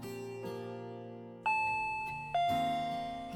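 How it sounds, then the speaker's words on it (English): A doorbell chimes in the Higurashi When They Cry visual novel, two bright ding-dong rings in quick succession over soft background music, each ringing out and fading. "the doorbell rang"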